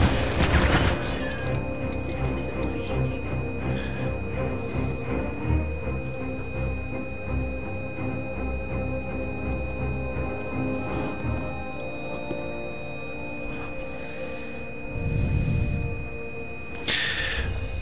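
Pyro burst and Mantis guns firing in the Star Citizen video game, a loud continuous barrage of booming, rattling gunfire with a sustained mechanical hum beneath it and a few heavier thuds near the end.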